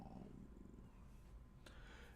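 A cat purring softly and continuously, close but very faint, with a low steady rumble and one brief rustle near the end.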